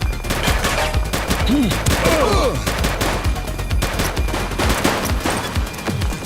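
Dense, rapid gunfire in a police shootout in The Precinct game, a loud, continuous barrage of overlapping shots with short bursts and a few whistling ricochets.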